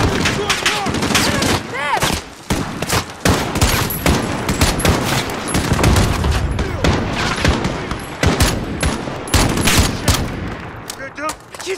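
Dense, loud gunfire fills a Call of Duty Modern Warfare embassy battle, with rapid automatic bursts and single shots overlapping almost without pause. Shouted voices break through here and there.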